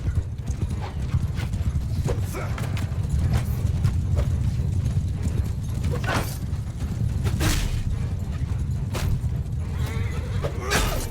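Horses in a Mount & Blade 2 Bannerlord battle: steady, dense clip-clop of many hooves galloping at once, with an occasional neigh rising over the thundering cavalry throughout.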